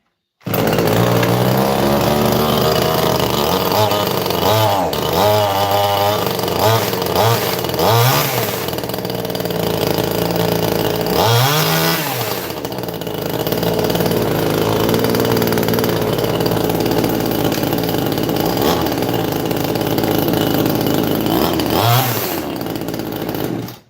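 A chainsaw is started with the choke off and then runs loud and close throughout, its two-stroke engine holding a steady buzz with several revving surges and dips, and no talking over it.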